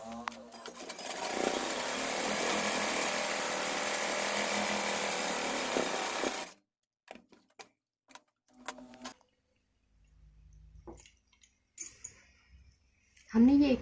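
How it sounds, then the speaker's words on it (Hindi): A sewing machine runs steadily for several seconds while stitching two baby frock panels together, then stops. Sparse quiet handling sounds and short bursts follow. "अब हम इन्हें दोनों पल्लों को स्टिच कर लेंगे।"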